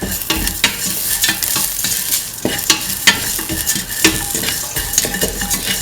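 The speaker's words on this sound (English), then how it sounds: "Now put in the ginger, salt," Ginger and salt being stirred into cumin rice frying in a pan, with steady sizzling under repeated scraping and clinking of a utensil against the cookware, close and fairly loud.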